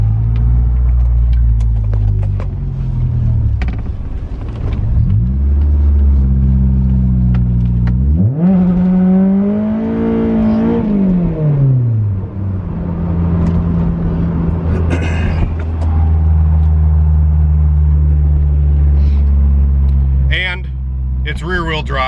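A Honda S2000 with a 2-liter, roughly 200-horsepower rear-wheel-drive engine revs hard while driving, rising to a high climbing wail that peaks and falls, then settles into a steady loud drone, with a short second rev near the end.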